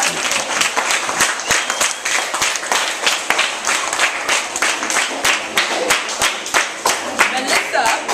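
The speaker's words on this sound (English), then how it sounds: "Give her a round of applause." An audience claps steadily for a grade 6 winner of a Christmas short story competition, a dense, even round of applause that holds at the same loudness throughout, with no voices over it.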